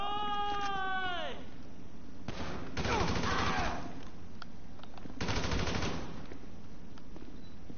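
Bursts of rapid machine-gun fire in GTA V, two dense volleys standing out over a busy game soundscape, with a brief harmonic cat-like cry near the start.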